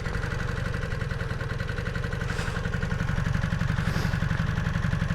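A rebuilt Honda CB250 Super Dream motorcycle engine idling close by, a steady low, even throb with a rapid pulsing rhythm and no talk over it.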